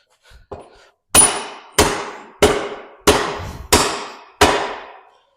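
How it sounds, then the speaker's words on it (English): A hammer strikes the wheel axle of a Honda CRF250R motorcycle: two light taps, then six loud, evenly spaced metallic blows, each ringing briefly before the next. "give me that hammer"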